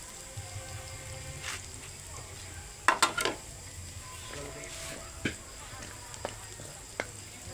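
Rice being sautéed in a pan, a faint steady sizzle with a cluster of sharp utensil scrapes and clinks against the pan midway and a few lighter taps later, heard close under a quiet room.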